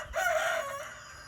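A farmyard chicken gives a single drawn-out call of about half a second, fairly close, over steady outdoor background noise, with no talking.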